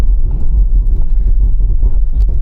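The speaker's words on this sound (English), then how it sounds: "Full emergency stop now." New Range Rover Sport makes a full emergency stop from 60 mph on a wet surface with heavy ABS intervention. A loud, close, low rumbling roar comes with irregular juddering pulses throughout, and no voices are heard.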